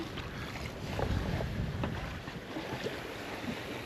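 Wind blows steadily around a sailboat under sail, a constant rushing roar against the microphone that swells slightly and then holds.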